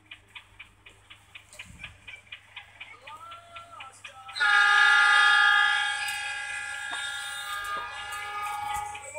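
The Argo Wilis passenger train clatters with rhythmic clicks over rail joints, then a loud, sustained horn-like blare takes over and rings on as it rolls into Solo Balapan station, Indonesia.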